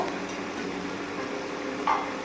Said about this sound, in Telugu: ఇలా మటన్ వేసిన తర్వాత మంచిగా కలుపుకొని ఒక 10 నిమిషాల సేపు దీన్ని మగ్గనిద్దాం.